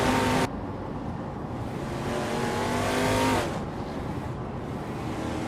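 Race cars, one of them a 1972 Ford Torino, roar continuously with a loud engine drone and shifting pitch, suddenly louder for a stretch in the middle as one passes close, with no talk.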